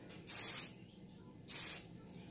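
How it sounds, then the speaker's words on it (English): An aerosol can of dry wax hair spray gives two separate short hisses close by as it sprays the hair roots, with quiet gaps between them. "I'm really only spraying it like on the roots"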